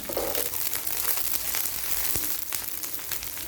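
Onions and green chilies frying in a pan for okra with egg, a steady hissing sizzle with faint crackles, close and even throughout with no talk.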